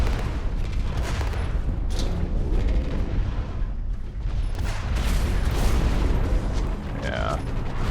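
A cannon fires in the mech shooter game Hawken, giving dense, booming blasts with splash-damage explosions that blend into continuous loud gameplay noise and mechanical rumble.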